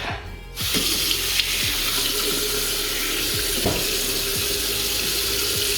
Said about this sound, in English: May have just ruined Letty's shower by turning on that bloody tap too much